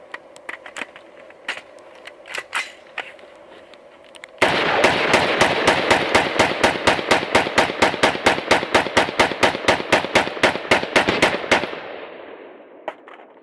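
Noveske rifle shooting at rocks outdoors: a few scattered shots, then a long, loud, rapid string of evenly spaced gunshots lasting about seven seconds before stopping, with faint echo afterward and no talking.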